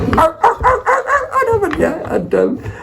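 A human voice imitates a dog, producing a rapid run of loud, close woofs and yips, then a few drawn-out whimpering barks.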